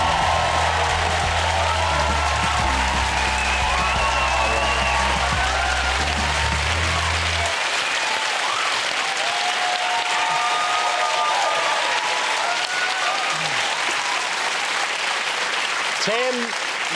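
A studio audience breaks into sustained applause and cheering for a fired contestant on a television talk show, continuous and loud over a fading musical sting.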